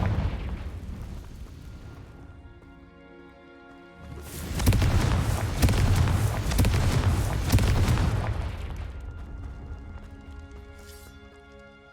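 Confringo fire-blast spell going off in Hogwarts Legacy, a loud burst that booms and roars for a few seconds over a steady musical backdrop before fading back down.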